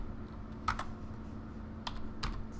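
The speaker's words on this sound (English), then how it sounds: "Push every key on the keyboard." Computer keyboard keys pressed in a few quick bursts, close and fairly clear over a steady low background hum, during a Power Stone game session on Dreamcast.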